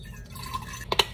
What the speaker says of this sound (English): So half of my water bottle is gonna be water.